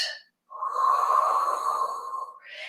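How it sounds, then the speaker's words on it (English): A long, deep, audible breath during a Pilates exercise, drawn close to the microphone as a steady airy rush lasting over a second, framed by shorter breath sounds. "So you're going to take a deep breath in. And breathing out to lift."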